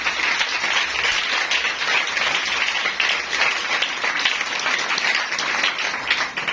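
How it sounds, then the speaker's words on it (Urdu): A congregation at a Pakistani church service gives loud applause for a faithful believer, a thick continuous roar of many clapping hands lasting several seconds, with no talking. "ایسے ایماندار کے لیے زوردار تالیاں"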